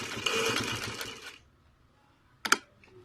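A sewing machine stitching a baby boy's kurta runs in a fast, close whirring burst for about a second, then stops, followed by a quiet pause and one sharp mechanical click.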